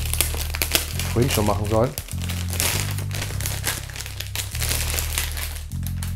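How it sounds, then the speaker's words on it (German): Plastic bag crinkling and rustling as a retro game big box is unwrapped at a retro games convention, steady crackle under ongoing talk and background music. "Ich habe es noch in der Tüte. Ich packe es einfach mal aus."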